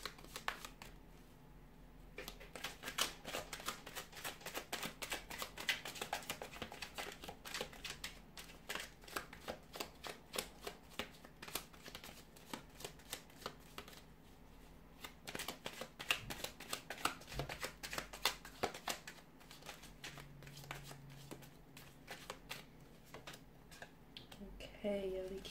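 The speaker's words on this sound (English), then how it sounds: "Let's give the cards a shuffle and see what messages are coming in for you." Tarot cards are shuffled in a dense run of quick, light riffling clicks. The flutter is fairly faint and close, carries on for many seconds with brief pauses, and has no voice over it.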